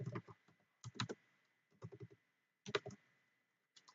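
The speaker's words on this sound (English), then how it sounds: "So I would type in." Light typing on a computer keyboard, small clusters of clicky keystrokes separated by pauses, faint and close in a quiet room, no talking.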